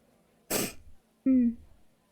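A single sharp sneeze bursts out loud and close, followed after a brief pause by a short voiced cough or throat-clearing sound, in a quiet room.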